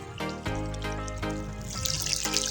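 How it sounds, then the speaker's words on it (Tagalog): Irrigation water flowing in a farm channel fed from a distant river, heard as a steady close rushing and splashing stream that continues throughout with no voices. "yan po yung patubig namin"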